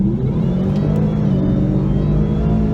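A Whipple supercharged 2018 Mustang GT accelerating hard from about 55 to 100 mph heard from inside the car, with a loud, steady engine drone and supercharger whine that stays constant throughout.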